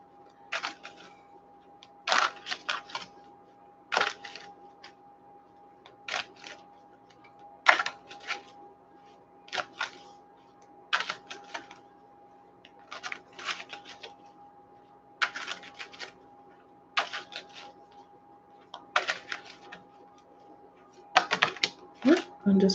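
Self-care cards being shuffled and pulled, heard as crisp repeated snapping and riffling bursts in an irregular rhythm over about twenty seconds, close and fairly loud with no talking.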